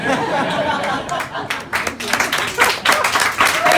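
A comedy audience breaks into scattered clapping that builds into applause, mixed with murmured chatter and a few chuckles.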